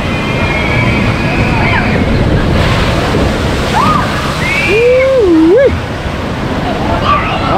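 Steady rushing and splashing water from a log flume ride at an amusement park, continuous and fairly loud, with people talking over it.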